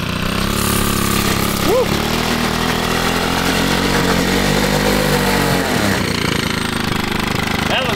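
A mini bike powered by a 2 hp two-stroke washing-machine engine revs with a buzzy, raspy drone that climbs and dips in pitch, while a person whoops over it.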